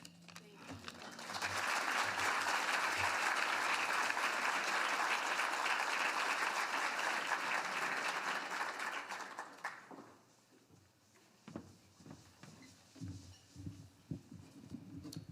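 A luncheon audience applauds an award recipient at a Women's History Month event, a loud sustained burst of clapping lasting about nine seconds before fading into scattered claps and murmuring voices.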